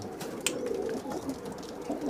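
Adult breeder pigeons with yellow identification markings cooing softly and continuously at close range, with low murmuring calls layered over one another and a brief sharper call partway through.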